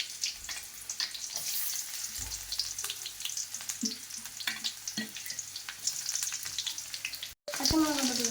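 Mustard seeds splutter in hot oil, giving a steady, close crackle and sizzle that runs throughout. A brief dropout near the end is followed by a louder clatter.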